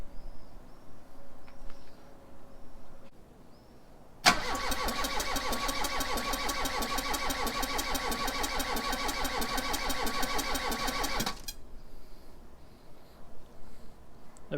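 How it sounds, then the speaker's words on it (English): A four-cylinder car engine cranks on its starter during a compression test with the throttle held open, a loud rapid rhythmic churning lasting about seven seconds before stopping, set between quieter background with faint birds. "So ask a friend to hit the starter and dip the throttle at the same time."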